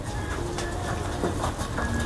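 Pigeons coo softly in a racing pigeon loft, a steady low murmur of birds with occasional fluttering, close by and without talk.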